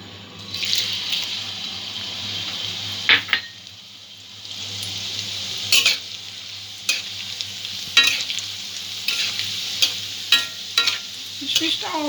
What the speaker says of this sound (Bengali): এই কিশমিশটাও আমি ভেজে নেব।